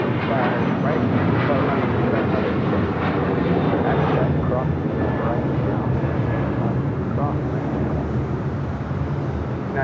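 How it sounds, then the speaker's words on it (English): A United Airlines Boeing 737-900ER departs from the south side at LAX bound for Chicago O'Hare, a loud steady jet roar with a thin whine running throughout, while someone talks over it. "Next departure here on the south side is United Airlines flight 2039 heading to Chicago O'Hare in a 737-900ER."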